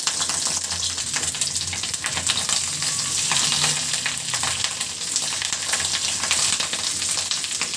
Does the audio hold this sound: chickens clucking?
no